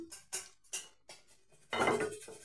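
A metal pot from a Bengali fish curry being handled and rinsed, with several separate close clanks and clinks followed by a louder splashing pour of water near the end.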